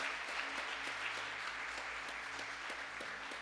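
Church congregation applauding, a steady sustained wash of many hands clapping throughout, moderately loud and fairly distant, with no talking over it.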